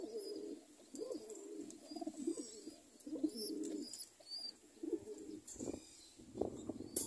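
Caged pet pigeons coo in soft, low repeated phrases, several overlapping calls rising and falling close by, with faint higher chirps and rustling between them.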